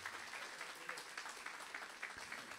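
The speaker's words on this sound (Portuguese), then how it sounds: "Pode se assentar e pode aplaudir a Jesus" A church congregation claps together, a faint, even patter of many hands with scattered louder claps, heard from some distance with no voices over it.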